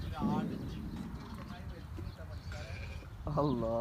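Loud bleating from a nearby goat on a farm in Al Ain, several cries with talking voices in between.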